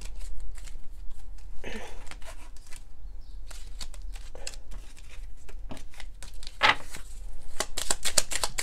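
A deck of tarot cards is shuffled by hand in crisp, rapid riffles and slides, close and fairly quiet, with brief pauses between bursts of card noise and a faint low hum underneath.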